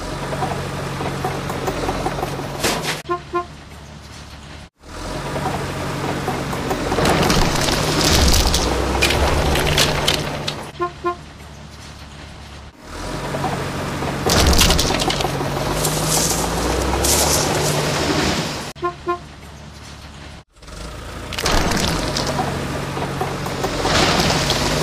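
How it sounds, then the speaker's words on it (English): Truck and bulldozer construction video game knocking down dilapidated buildings: loud engine rumble mixed with crashing and crumbling, in repeated bursts split by brief silent gaps. "Let's destroy dilapidated constructions."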